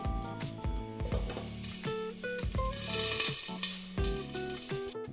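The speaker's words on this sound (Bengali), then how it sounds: "তারপরে দিচ্ছি সর্ষে। এটা একটু হতে দিচ্ছি।" Mustard seeds fry in oil in a pan, a continuous sizzle with light crackles heard beneath a melodic musical backing.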